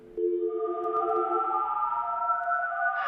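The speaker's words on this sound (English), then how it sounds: "The background music for this stage is literally just a slowed down modem dial-up sound." Slowed-down modem dial-up tones serve as stage music in the Sonic.EXE video game: steady, droning stacked tones that slowly glide and shift, ending in a brighter rise, with no voices.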